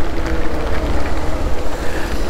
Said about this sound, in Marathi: भरपूर पाऊस